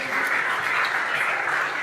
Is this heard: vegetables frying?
no